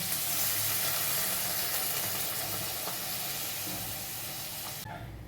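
Water splashed into frying masala for a vegetarian chhana dalna sets off a loud, steady, close sizzle and hiss that holds for several seconds, then cuts off abruptly near the end.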